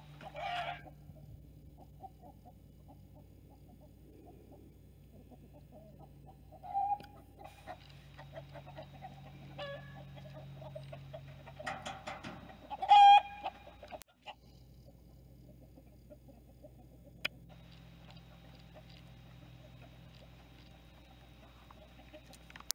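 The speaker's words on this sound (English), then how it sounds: "chickies following the daddy" Baby chicks and a rooster in a field make sparse, soft clucks and a few high peeps, scattered over quiet outdoor background with a couple of louder bursts.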